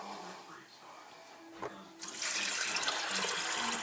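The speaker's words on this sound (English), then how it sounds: "then you're going to want to put some water." Water pours steadily into a crock pot of pinto beans, starting partway through as a loud, continuous splashing rush that follows quieter room sound.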